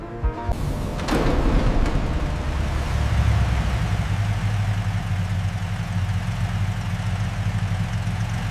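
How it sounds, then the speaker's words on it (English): Restored 1978 Toyota Land Cruiser FJ45 pickup engine starting and settling into a steady, deep, rumbling idle, close and continuous after a brief clatter at the start. "This 1978 model, lovingly restored, idles with the deep rumble only a true classic can produce."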